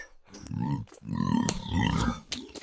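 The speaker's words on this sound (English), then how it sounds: "wild pig just ran by" A few close, rough, low grunts in short bursts, snorting and guttural, from a wild pig running by on a deserted island.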